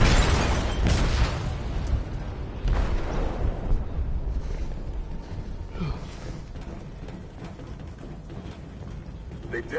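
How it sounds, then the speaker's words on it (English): A loud detonation rips through a ship's hold in the video game Detroit: Become Human, with heavy booming bursts and a rumbling, churning wash of noise that carries on throughout. "They detonated an explosive in the hold."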